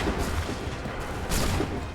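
A volley of musket gunfire from a line of soldiers in the video game Assassin's Creed III, a dense rumbling burst of overlapping shots and booms, loud and continuous, with a second surge near the end.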